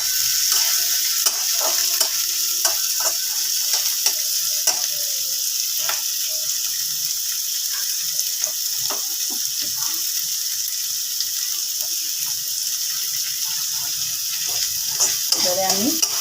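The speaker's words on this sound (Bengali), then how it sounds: "পেঁয়াজ টমেটো একটু ভাজা ভাজা করে নিয়ে ফুলকপিটাকে দিয়ে দেবো।" Chopped onion and tomato sizzle steadily in a pan for a cauliflower dish, with frequent scraping clicks from stirring scattered over the constant frying hiss.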